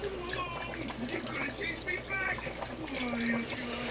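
White wine, about a cup, poured into a hot pan of butter for shrimp scampi, giving a steady liquid splash and sizzle over kitchen background noise throughout.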